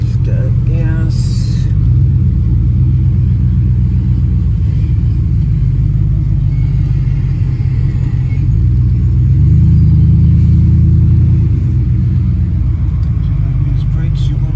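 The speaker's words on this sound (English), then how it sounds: "And this is a brush tunnel system." Continuous low mechanical rumble inside a Gas N Wash brush tunnel conveyor car wash in Mokena, Illinois, heard from within the car, steady with a slight swell near the end, with speech over it.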